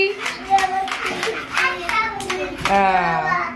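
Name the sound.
clapping hands during a ball and bottle game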